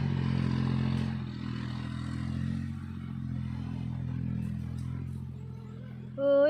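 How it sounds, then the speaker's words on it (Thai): A tractor's diesel engine chugs steadily at idle nearby, a low droning rumble that ends with a rising mechanical whine. "เสียงรถไถนะคะ"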